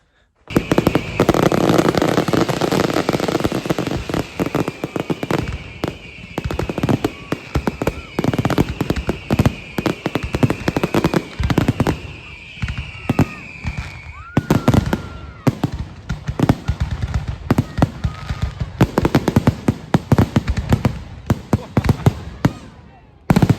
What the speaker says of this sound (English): Let's go watch some fireworks.